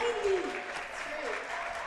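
A crowd claps at a high school senior night basketball game, a moderate wash of applause heard alongside speech.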